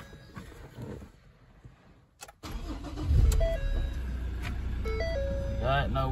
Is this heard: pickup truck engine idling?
yes